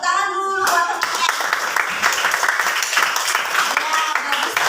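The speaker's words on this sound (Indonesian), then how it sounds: "Tepuk tangan dulu buat teman-teman." Sixth-grade schoolchildren in a classroom clap their hands together for classmates, a lively burst of uneven, close-up clapping that starts after a brief spoken instruction and carries on with scattered voices underneath.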